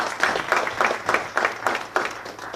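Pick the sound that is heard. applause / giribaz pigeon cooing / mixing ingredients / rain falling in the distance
applause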